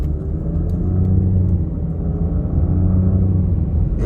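2023 Nissan Rogue S AWD accelerating at about one-third throttle, heard from inside the cabin as a smooth, fairly quiet engine hum and road rumble that climbs gradually and stays steady.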